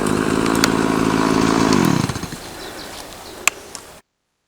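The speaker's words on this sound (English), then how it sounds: "My chainsaw is acting up a little bit on me" A faltering chainsaw engine runs hard and loud at close range, then winds down and dies out partway through, leaving a few faint sharp knocks and quiet outdoor air behind.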